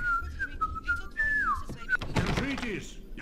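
Someone whistles a short wandering tune in the video game Max Payne, ending in a falling note, then a dull thunk and a brief burst of noise follow.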